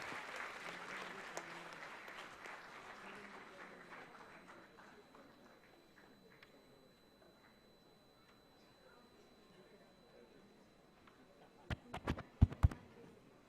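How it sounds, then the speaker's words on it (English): A convocation audience applauds graduates receiving certificates, a broad wash of many hands clapping that starts full and steadily fades over several seconds, followed by a few sharp, isolated knocks near the end. "Big round of applause."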